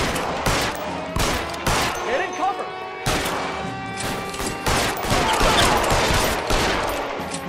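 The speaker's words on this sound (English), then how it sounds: "I think his friend shot him with a machine gun." Machine gun fire in the video game L.A. Noire: loud, close bursts of rapid shots with hard impacts and crashes, stopping and starting repeatedly throughout.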